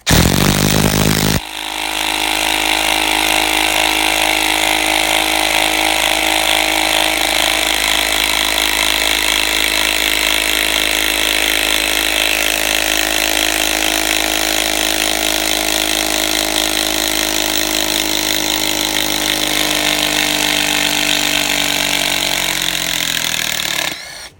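A Fein ASCD18-200W4 impact driver removing bolts runs nearby almost without a break for over twenty seconds, a harsh, steady mechanical roar with no talking.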